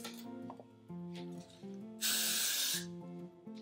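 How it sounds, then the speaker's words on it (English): Hairspray hisses onto a human hair wig in one long, loud, steady burst lasting under a second, set against a quiet backdrop of sustained musical tones. "let me hairspray this"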